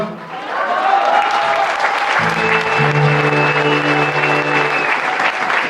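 Steady audience applause at a German carnival session honouring a longtime host, with sustained brass band tones entering about two seconds in and playing under the clapping to the end.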